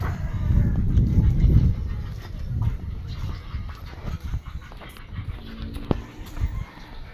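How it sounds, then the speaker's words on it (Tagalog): Dogs whimper and pant nearby, with scattered scuffling and a few sharp knocks. "Daming aso dito sa akin, okay?"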